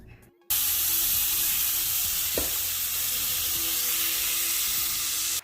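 Shrimp sizzle in hot oil in an Always Pan, a steady broadband frying hiss that starts abruptly and holds at an even, close level to the end.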